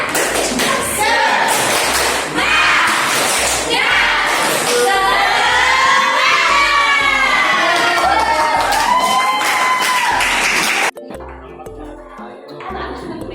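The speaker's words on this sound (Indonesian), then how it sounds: "Beri tepuk semangat." A class of schoolchildren claps and cheers loudly in a classroom during group presentations, with excited shouting and a rapid run of claps over about eleven seconds, then the noise drops off sharply into quieter room sound.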